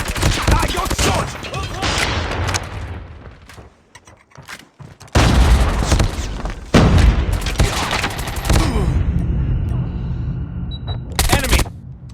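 Gunfire in an online video game, dense bursts of loud close shots and rattling automatic fire, dropping off briefly midway and then resuming, under game voices and in-game sound effects.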